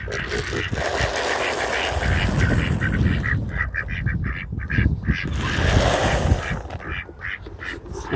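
Three ducks quacking on a homestead in the morning, a near, continuous chorus of raspy calls at feeding time, with faint background noise.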